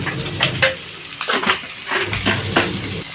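Cut raw mango drops into hot tempering oil with halved chillies, giving a loud, close sizzle with stirring and clinks of a utensil against the pan.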